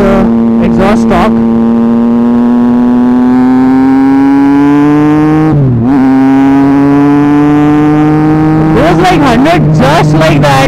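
A Triumph Street Triple 675 motorcycle running with no exhaust fitted drones loud and close, revving up steadily, dipping briefly mid-way, then rising again with quick sharp throttle blips at the end.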